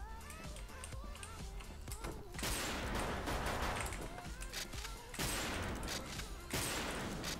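Rapid bursts of gunfire from an online shooter game, dense and loud, layered over game sounds and music, with a player's voice talking over the shooting.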